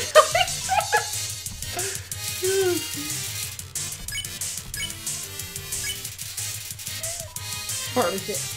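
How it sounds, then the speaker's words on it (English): A dog bark sound effect plays in the video game Undertale, a few sharp yips in the first seconds among game music and sound effects, with a person talking over it. "Harrowing bark."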